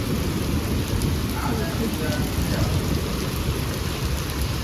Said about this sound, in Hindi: बहुत तेज हो गई बारिश